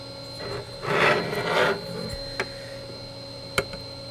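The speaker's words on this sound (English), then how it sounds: "This one's actually scraping away pretty well, but I don't want to have to scrape every single pad." Soldering pads on a Tektronix TDS-640 oscilloscope acquisition board being scraped by hand, a few rough rasping strokes close up, followed by small sharp ticks against a steady faint electronic hum.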